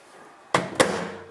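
A microwave door is pushed shut with two quick, close knocks in a quiet kitchen, the second thud a touch heavier than the first.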